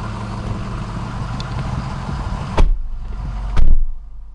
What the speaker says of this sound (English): Let's take you out on a quick test drive.